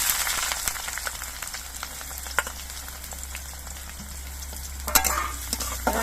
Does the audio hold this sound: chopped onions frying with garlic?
yes